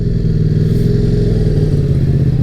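KTM RC8 R sport motorcycle engine holding a high, steady idle after an injection rail change, a dense continuous mechanical drone with fine rhythmic pulsing and no voices.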